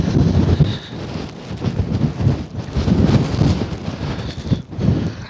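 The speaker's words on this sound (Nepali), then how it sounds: "खतरा हिउँ चले, हावा चलेछ।" Strong, gusty wind roars across the snowy summit of Mam Tor in the Peak District, buffeting steadily and loudly with surging gusts and no talk.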